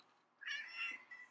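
Domestic cat giving a single drawn-out meow indoors, fairly quiet and close, against a near-silent room with no talk.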